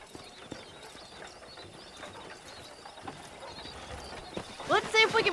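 Steady outdoor bustle with voices and horse hooves clopping in the video game Red Dead Redemption, ending in a loud horse whinny near the close.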